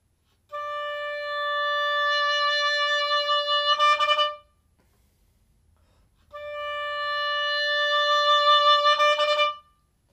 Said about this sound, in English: So let's practice the long tone. At the end of it, we're gonna do a burst of articulation.